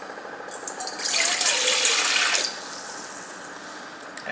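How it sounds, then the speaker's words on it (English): Water pours from a tap into a pizza dough mixing bowl for New York style dough, a steady splashing rush that swells for about a second and a half before trailing off into quieter trickling. "Add my water once again."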